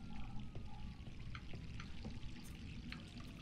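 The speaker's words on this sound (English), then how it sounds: "The water's still running." A faucet left running in Resident Evil 3 pours steadily under a dim ambient rumble, with a few brief splashy accents scattered through the stream and no voices.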